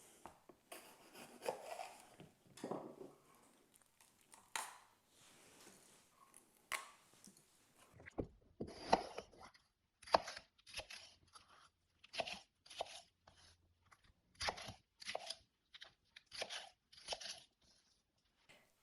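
A knife chops peppers on a board for cucumber relish, first with irregular faint cuts, then with a steady run of crisp, separate chops, close and quiet.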